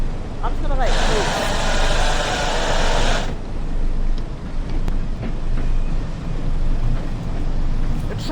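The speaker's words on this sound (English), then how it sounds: "We're just letting it roll down the hill." A train rolls downhill on the St Ives to St Erth line in the Train Sim World 4 video game, a steady rumble of wheels and running gear with a brief hiss early on and someone talking over it.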